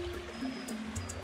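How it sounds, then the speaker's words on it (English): Water trickles gently over a beaver dam that has backed up a river into wetlands, a soft, steady low stream murmur with faint bird chirps in the distance. "Right over there, you can see the dam. Water trickling over it."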